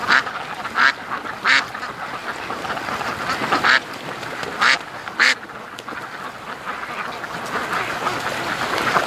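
Ducks on a free-range farm quack repeatedly in short bursts, fairly close and loud, over a steady outdoor background hiss; no talking.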